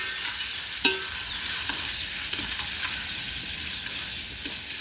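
Onions for biryani frying in a pan, a steady close sizzle broken by a few sharp scrapes and knocks as they are stirred, with no talking.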